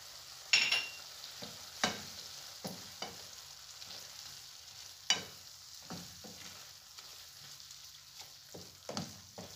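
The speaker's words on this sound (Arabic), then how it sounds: "ونحرك حتى تشرب الزيتون هاد الشرموله ديال هاد لاصوص" Olives get stirred into chermoula bolognese sauce sizzling in a pan, with a steady low fry and repeated sharp scrapes of the spoon against the pan.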